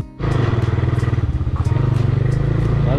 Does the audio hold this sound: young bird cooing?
no